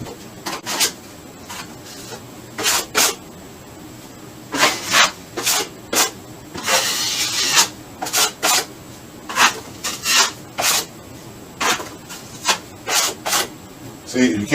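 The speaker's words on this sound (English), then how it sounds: "So if it's not smooth like this, you got to keep sanding it." Hand sanding of joint compound on a patched wall, a series of short scraping strokes in an uneven rhythm, close and fairly loud, with a longer rasping pass in the middle and no talk.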